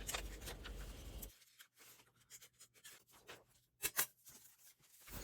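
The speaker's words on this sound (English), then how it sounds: "I take my fussy cutting scissors and I finish it up with the scissors" Fussy cutting scissors snip through paper during a scrapbook-scrap happy mail folio project, a short burst of crisp cutting and rustling followed by quieter, irregular snips and paper handling close by.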